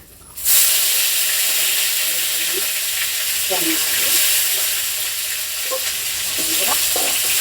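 Cardamom pods and dried coriander hit hot soybean oil for a tempering in a village kitchen, giving a sudden loud, steady sizzle that hisses continuously with a few faint clinks of stirring.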